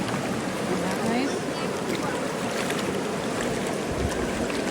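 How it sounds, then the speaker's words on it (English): Ocean waves wash in a steady broadband rush near a waterfall spot, with constant surf noise and wind throughout and faint voices underneath. "there's more waves over here"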